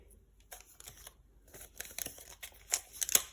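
A paper surprise packet is opened by hand: soft crinkles and a few sharp rustling tears of paper, sparse at first and then busier and louder toward the end, close up with no voices.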